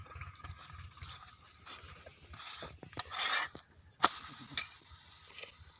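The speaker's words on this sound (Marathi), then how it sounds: "आता पोळीला तेल पण लावून घेत आहे" A roti fries on a griddle after oil is brushed on. Soft sizzling comes in bursts with intermittent scraping and clanking of utensils nearby, and no one talks.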